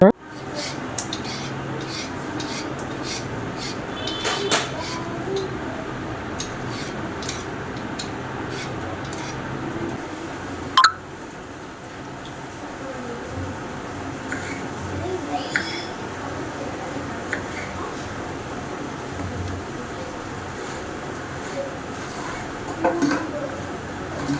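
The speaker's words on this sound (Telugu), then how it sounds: "పొటాటో ఫ్రై కోసం పొటాటోస్ అన్ని పీల్ చేసి కట్ చేస్తున్నా" Repeated scraping and knife-on-board tapping as potatoes are peeled and chopped, close and steady, with a few louder clunks.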